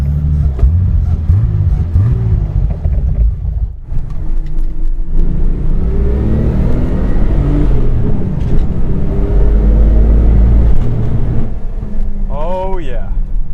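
A turbocharged 1988 BMW E24 635CSi engine starts and revs on a drive, a loud droning engine that climbs in pitch through the gears. A person talks over it throughout.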